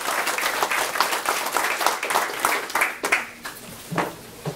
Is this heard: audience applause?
yes